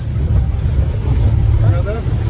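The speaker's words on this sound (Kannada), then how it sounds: "ಆ್ಯಂಡ್ ಅಲ್ಲಿಂದ ಜೀಪ್ ರೈಡ್ ಶುರು ಆಯಿತು ನೋಡಿ." A jeep starts a ride along a rough trekking road toward Kodachadri, its engine a steady low rumble with wind and road noise throughout, fairly loud and continuous, with faint voices underneath.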